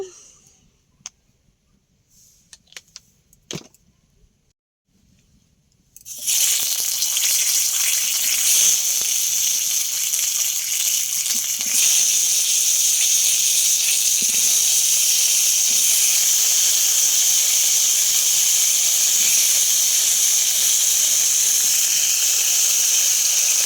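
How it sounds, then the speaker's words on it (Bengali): Pumpkin pieces hit hot mustard oil in a pan after a quiet start, bursting into a loud, steady, close hiss and sizzle that holds without a break. "এবারে কুমড়োগুলো ভেজে ফেলবো অনেকগুলো কুমড়ো আছে একবারে ভাজা হবে না দুবারই ভাজতে হবে সর্ষের তেল দিই একটু"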